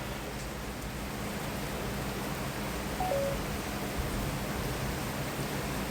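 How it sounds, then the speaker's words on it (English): Heavy rain pouring steadily as a dense, even hiss across the whole stretch, loud and continuous with no talk over it. "It's raining so hard."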